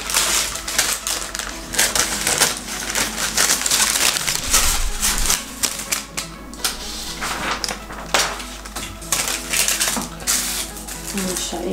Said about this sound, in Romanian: O să tai un pic mai mult din ea, ca să nu mă incomodeze.